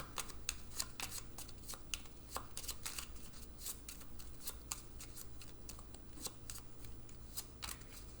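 Playing cards being shuffled up close during a tabletop game, a dense run of quick riffling clicks and flutters repeating steadily throughout at a moderate level with no talk.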